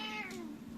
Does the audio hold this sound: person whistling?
no